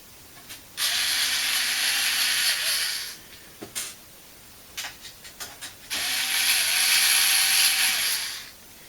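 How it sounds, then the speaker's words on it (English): A power supply is taken out of an Ultra Micro Fly MX6 computer case: two long, loud bursts of rapid mechanical ratcheting whir, with scattered clicks and knocks of metal parts between them, close up and without talk. "I'm going to pull this power supply out because I'll probably be putting a different unit in this."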